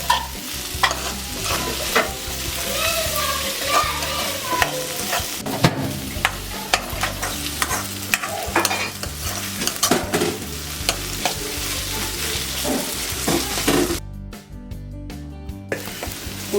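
Crushed garlic and ginger frying with onions in a pan for a Kozhikode-style prawn roast, loud continuous sizzling with busy stirring scrapes throughout, close up, briefly cutting to near silence toward the end.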